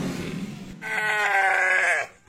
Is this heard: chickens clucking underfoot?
no